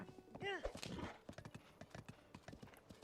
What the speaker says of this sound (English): Okay, we got back the horse.